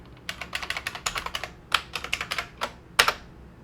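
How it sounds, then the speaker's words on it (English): Quick, close keystrokes on a computer keyboard as a password is entered, a brisk irregular run of clicks with a louder final key press and no speech. "I'm going to type in Win access, and I type in my password,"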